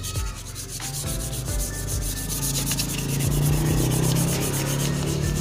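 Sandpaper rubs steadily against a motorcycle body panel to strip old paint before a repaint, a continuous close scratchy rasp that grows slightly louder partway through, with no talking.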